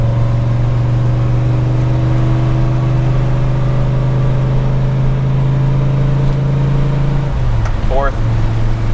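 A 1961 Pontiac Catalina with a 421ci engine pulls hard in third gear, its loud steady drone holding close and constant before the pitch drops sharply near the end as the next gear goes in.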